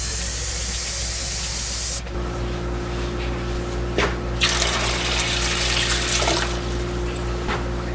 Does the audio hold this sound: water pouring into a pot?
yes